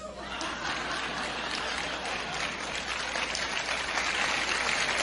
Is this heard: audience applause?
yes